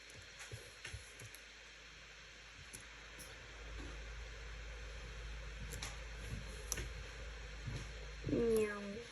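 A cat character in Roblox Warrior Cats Ultimate Edition lets out a single short, fairly loud meow near the end. Before it there is only faint background hiss and soft game noise.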